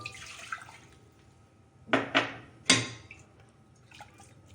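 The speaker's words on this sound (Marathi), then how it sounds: "त्याच्यात थोडं गरम पाणी टाकू" Quiet at first, then three quick splashy pours of hot water onto drumstick soup pulp in close succession, followed by faint trickling.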